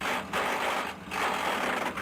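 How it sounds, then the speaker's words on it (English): Harsh mechanical grinding from a car with a failed transmission when put in gear, two loud sustained bursts separated by a brief drop, with no voices. "You try and put it in gear and it makes an awful grinding noise."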